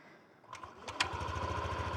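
A Yamaha Aerox 155 V3 scooter starts up and settles into a faint, quick, even idle putter, with a few sharp clicks as it fires.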